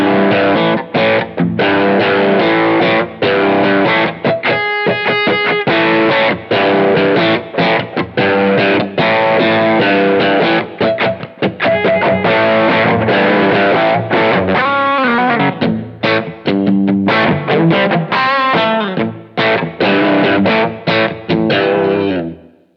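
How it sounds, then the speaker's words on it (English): Overdriven electric guitar through a Tube Screamer overdrive sound on a Line 6 HX Effects unit, playing chords and riffs continuously, warm crunchy distortion, loud and close, with no voices. "now this is what the Tubescreamer sounds"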